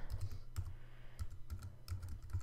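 Typing on a computer keyboard gives quick, soft, close key clicks in small irregular clusters over a low steady background hum.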